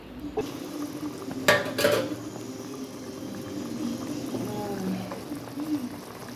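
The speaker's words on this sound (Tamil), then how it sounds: "குழம்பு கொதிக்குது." Prawn curry bubbles and simmers steadily in a clay pot, with a low continuous burble and a couple of brief louder clatters near the start.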